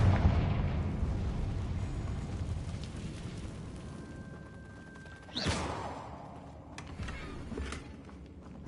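Confringo blasting spell explodes in the video game Hogwarts Legacy on PS5, a sharp burst near the middle rising into a broad boom over a dense, rumbling game soundscape.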